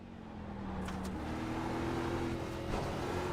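Track-day race car driven hard, a steady engine drone heard from inside with rising revs as it powers along, a few brief higher whines near the end.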